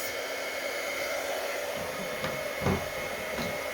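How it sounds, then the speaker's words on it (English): A Stampin' Up! heat tool warms up for heat embossing, giving a steady, loud whooshing rush of hot air that runs the whole time with no break, alongside a few faint knocks. "I have the Stampin' Up! Heat tool. So I'm going to grab that and let that warm up just for a second."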